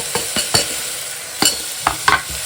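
Coriander stems sauté in a hot pan with a steady sizzle, while a spoon scrapes and stirs in several irregular strokes close by.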